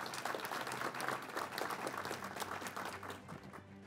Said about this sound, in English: So I want a big round of applause for all of the Turkish Maria Foundation members.